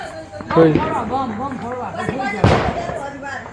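At a Diwali celebration, one sharp firecracker bang cracks out partway through, heard under steady talking close by.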